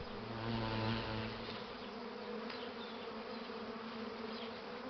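A dense, steady buzzing of a honeybee swarm, a continuous droning hum with no voices.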